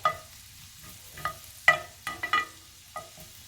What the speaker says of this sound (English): now let's saute this garlic in here.